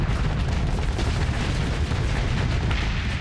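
Anti-armor mortars firing from Warhog ships in the space combat game Starsector, heard as a continuous loud roar of overlapping booms and thuds with a heavy low rumble and no clearly separate shots.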